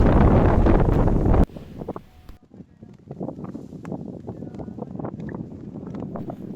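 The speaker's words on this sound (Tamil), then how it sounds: "நல்ல காற்று, நல்லா சூப்பராக இருந்துச்சு." Strong wind on a mountain top at Marunthuvaz Malai near Kanyakumari, beginning as a loud roaring gust buffeting the microphone, then easing into a steady lighter breeze with rustling and faint scattered sounds.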